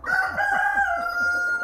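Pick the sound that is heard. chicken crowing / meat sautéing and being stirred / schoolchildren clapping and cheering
chicken crowing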